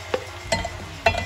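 Chopped onion dropped into hot oil for a bhindi dish, three short sizzling bursts with stirring scrapes, close and fairly soft.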